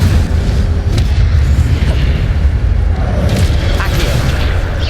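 An Incendio fire spell blasting in Hogwarts Legacy: heavy, booming bursts over a dense low rumble, with sharper flares of fiery crackle breaking through a busy, continuous game soundscape.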